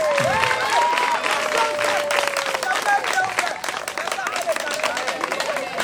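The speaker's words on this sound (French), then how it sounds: "Et on peut applaudir pour ça." Audience applause at a school debate event in a lycée, with steady dense clapping throughout, some crowd noise and a voice running underneath.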